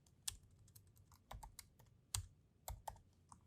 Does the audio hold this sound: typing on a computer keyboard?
yes